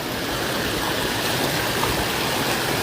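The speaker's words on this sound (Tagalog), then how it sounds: "Ganda ng ilog nila." A river stream rushes steadily near a waterfall in Albay, Bicol, a broad, continuous wash of flowing water heard close and alone without pause.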